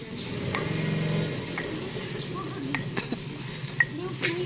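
Nasi goreng sizzles and fries in a pan while a utensil stirs and scrapes, with occasional sharp clinks against the metal, close and steady.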